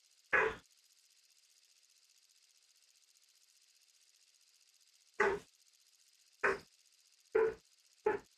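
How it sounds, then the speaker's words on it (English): A dog barks outside, five short sharp barks spaced irregularly, the first alone and then four in quicker succession, each clear against a faint steady hum. "Barking dog outside."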